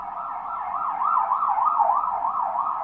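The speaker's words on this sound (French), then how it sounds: "Désolée pour l'ambulance, ça ce sont des choses qui ne se contrôlent pas." An ambulance siren passes outside, wailing up and down in a smooth, regular cycle that stays loud and continuous throughout, with no voices.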